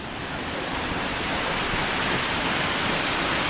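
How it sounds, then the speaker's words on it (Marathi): Steady roaring wash of a waterfall on a remote cliff face, water falling with wind blowing through, continuous and loud throughout with no voices. "धबधबा पाणी पडतोय"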